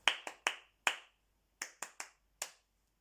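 A teacher claps an easy-to-copy four-beat rhythm for a call-and-response music game: eight sharp, close hand claps in two short bursts separated by a brief pause, crisp and dry against silence.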